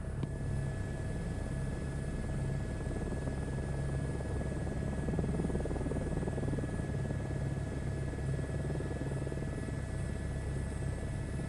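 An Airbus H125 helicopter in Microsoft Flight Simulator 2024 lifts off from a helipad, a steady turbine whine with a low rotor rumble and buzz that holds evenly, no voices.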